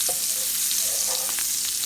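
Garlic sautés in a hot pan, a continuous bright hiss and crackle of sizzling oil with faint clicks of stirring, steady and close throughout, with no talking.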